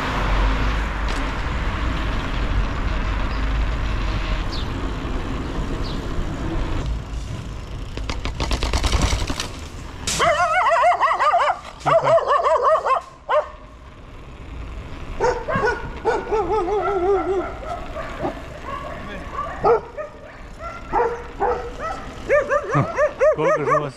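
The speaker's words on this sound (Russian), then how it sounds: "Собачка." After a stretch of rumbling motion noise on a mountain bike trail, a dog barks and yips repeatedly at close range, with sharp irregular bursts and whimpering in between.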